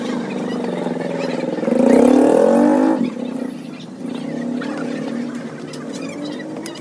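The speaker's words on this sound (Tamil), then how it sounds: "டிராஃபிக் என்ன டிராஃபிக்" Road traffic during a ride to Krishnagiri, a continuous close engine and road rumble with a vehicle revving and a horn-like tone rising briefly in the middle before settling back to steady traffic noise.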